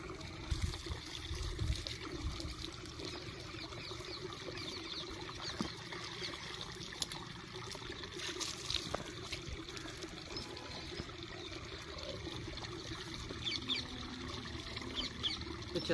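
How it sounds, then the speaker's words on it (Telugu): Water is sprinkled from a small box onto hard, dry soil sown with gongura and coriander seeds. Soft, uneven trickles and patters repeat quietly for a long stretch, with no voices. "ఈ గిన్నెతో వాటర్ ఈ బాక్స్తో వాటర్ జిమ్మాను."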